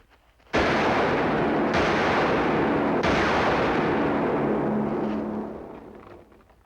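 A gunshot from a 1956 western film, a loud blast followed by rolling, sustained booming echoes with a couple of further sharp cracks before fading out, no speech.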